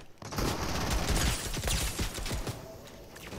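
An AK rifle firing in Fortnite, a fast string of sharp shots from close range, moderately loud, that thins out toward the end.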